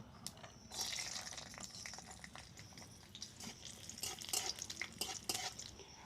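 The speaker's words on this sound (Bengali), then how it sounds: "এর মধ্যে কাজু বাদামটা ভেজে নেব" Cashew nuts frying in oil in a pan for a ripe mango halwa, with a steady hiss and scattered scraping stir strokes, fairly faint and close, with no talking.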